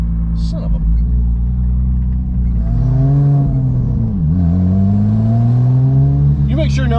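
A straight-piped Porsche 911 Turbo engine drones low, then rises in a revving sweep, dips, and climbs again to a sustained high pitch, loud and close, with a short spoken remark near the end.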